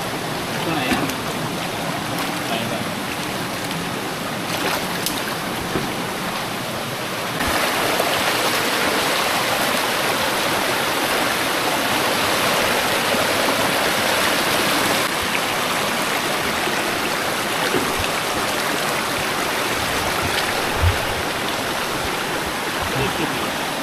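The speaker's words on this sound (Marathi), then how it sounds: "पाणी लगेच भरतं" Water rushes continuously in a loud, broadband roar like a flowing stream, steady throughout with a few faint voices beneath.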